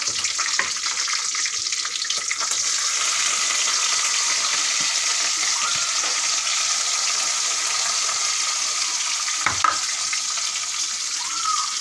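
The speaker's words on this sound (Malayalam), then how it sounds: "വെളുത്തുള്ളി, ഇഞ്ചി, പച്ചമുളക്, കരിയാപ്പില ഇട്ട് കൊടുക്കാം" Garlic, ginger, green chillies and curry leaves fry in hot oil for a pickle, giving a constant close crackling sizzle with a few faint stirring knocks.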